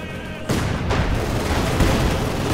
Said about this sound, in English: Constable there getting shot at, getting mortared.